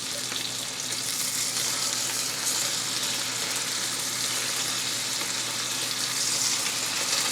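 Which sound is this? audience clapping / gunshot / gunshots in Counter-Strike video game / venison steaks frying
venison steaks frying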